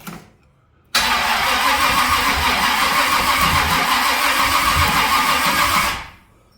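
Stock Pontiac 350 V8 cranking and catching, then running at a steady loud rumbling idle for about five seconds before cutting off abruptly, close by.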